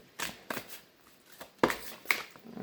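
Tarot cards being shuffled nearby in several crisp bursts of riffling and slapping, irregular in rhythm, with quiet gaps between.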